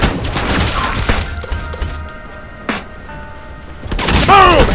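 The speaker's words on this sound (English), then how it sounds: "Boom! Headshot!" Gunfire from the mobile shooter Modern Strike Online during a headshot, a loud close burst of shots and shattering impacts with game effects and a brief tonal chime near the end.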